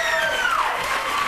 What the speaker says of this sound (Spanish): fuerte el aplauso para los chicos